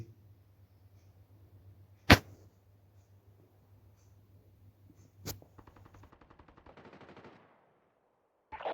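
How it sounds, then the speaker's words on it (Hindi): Gunfire in a Call of Duty match: two sharp isolated shots a few seconds apart, then a rapid burst of automatic fire and a final shot, moderately close over quiet game ambience. "फायरिंग की आवाज़ आ रही है वापस से, यहीं कहीं फायरिंग हो रही है।"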